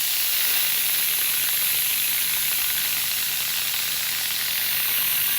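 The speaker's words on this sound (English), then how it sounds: "the steam has completely released" An Instant Pot pressure cooker releases steam after cooking meat for Haitian bouillon, a loud, steady, close hiss that lasts throughout without break.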